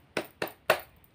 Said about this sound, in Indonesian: Ini harus benar-benar semangat ya. Tepuk semangat.